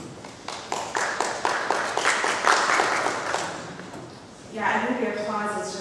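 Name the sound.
audience applause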